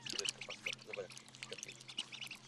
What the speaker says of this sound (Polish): Na razie wiadomo jedynie, że to kaczka czarna, potocznie nazywana krakwą.